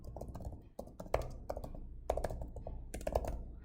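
Typing on a computer keyboard, close and soft clicks in irregular bursts with a few heavier key thumps.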